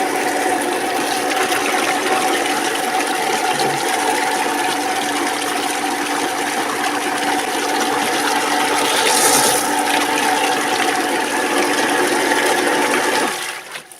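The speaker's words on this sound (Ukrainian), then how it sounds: "Отже, як ви щойно бачили, цей насос цілком справний, воду гарно качає." Repaired Adriatika JET 100S surface water pump running and pumping water, a steady loud motor hum with gushing, splashing flow that continues evenly before dying away at the end.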